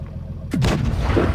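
A B-C 25t AP tank in a tank video game fires its cannon once, a sudden heavy boom that breaks a quiet background and rolls off into a long, low rumbling decay.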